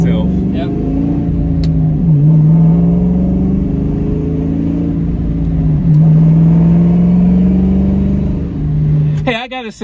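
A 5.0 V8 in an SN95 Mustang GT heard from inside during a ride, a loud steady engine drone that rises and settles through gear changes, with a brief clatter at the end.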